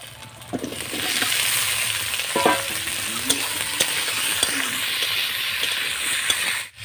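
Boiled small potatoes go into a hot pan with cumin and onion, hissing in a steady close sizzle while a utensil scrapes and taps against the pan in irregular strokes.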